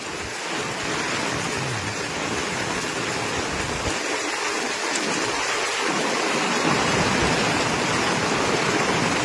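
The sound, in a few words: heavy rain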